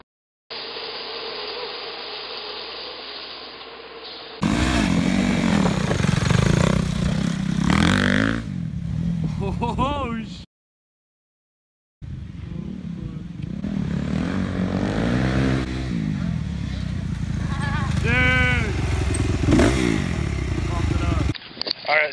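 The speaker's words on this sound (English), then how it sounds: "It's gonna go ride our dirt bikes, have some fun, and bring you guys along for the ride." Dirt bike engines at a motocross track buzz and rev loudly, with rising whines as riders accelerate past, cut by a brief silent break, with talk at times.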